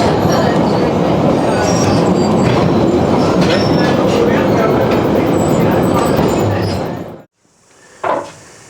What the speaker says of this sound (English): Reversing our way back. Loco is pushing us.